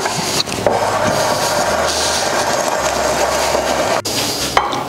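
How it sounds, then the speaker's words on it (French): Chestnut cream being stirred into muffin batter for blueberry, chestnut and coconut muffins, a steady close scraping and swishing that runs almost without pause for several seconds, with no voices. "je vais pouvoir ajouter ma crème de marron. Et évidemment, je mélange à nouveau."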